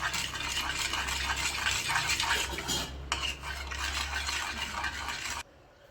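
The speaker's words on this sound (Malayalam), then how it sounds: "ഈസ്റ്റും കൂടെ ചേർത്ത് നന്നായി നമുക്കൊന്ന് മിക്സ് ചെയ്ത്" A spoon stirs yeast into bun bonda batter in a bowl, a continuous scraping and sloshing with light clinks against the dish, close and steady until it stops abruptly near the end.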